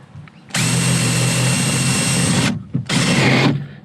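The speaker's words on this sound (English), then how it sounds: "I've got to go through and drill the top of them out" A power drill bores out rivets on an aluminium tinny boat, giving a loud, close whine that runs for about two seconds, then cuts out briefly and starts again for a second burst.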